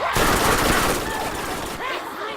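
Rapid bursts of gunfire in the Borderlands video game, Lilith fighting in the Underdome arena, dense and continuous with overlapping shots that carry through the whole stretch.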